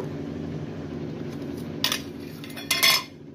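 Two sharp metallic clinks of utensils against a cooked pot as it is opened in a home kitchen, close and brief, over a steady low hum.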